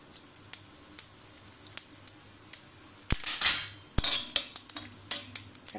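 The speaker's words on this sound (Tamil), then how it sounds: "இப்போது இதில் வந்து நம்ம வச்சுருக்கிற ஏலக்காய், கிராம்பு, சீரகம், பட்டை இதெல்லாத்தையும் ஆட் பண்ணிக்கலாம்." Whole spices, cardamom, cloves, cumin and cinnamon, dropped into oil in a kadai, giving scattered sharp clinks and light clatter that build into a brief burst of sizzling and stirring near the end.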